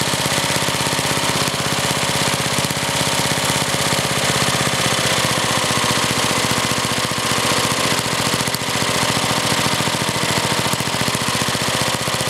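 A small Briggs and Stratton gasoline engine runs steadily at a fast idle, with a constant buzzing, rattling drone throughout and no pauses.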